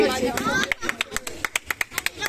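Rhythmic, evenly spaced handclaps ring out at a Saraswati Puja prize-giving, starting after a stretch of overlapping chatter and continuing as a steady, close run of sharp claps.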